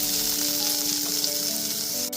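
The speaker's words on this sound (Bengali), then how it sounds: "সমস্ত মাছের পিসগুলো ভেজে তুলে নেওয়ার পর এবার ওই একই তেলের মধ্যে 2টো মিডিয়াম সাইজের আলু আমি এরকম লম্বা করে কেটে নিয়েছি" Long-cut strips of two medium potatoes fry in the same hot oil used earlier for katla fish, giving a steady, close, loud sizzle and crackle with no talking.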